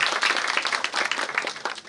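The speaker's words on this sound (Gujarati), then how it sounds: "આપણે આ બંને અખબારને અને ચેનલને જોરદાર તાળીઓથી વધાવીએ." Applause at an International Women's Day 2024 event in Surat, a dense burst of audience clapping, close and steady for the whole moment before thinning slightly at the end.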